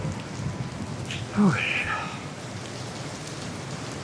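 Rain falls steadily in Manila, a dense even hiss throughout, with a brief spoken word and a short passing tone near the start.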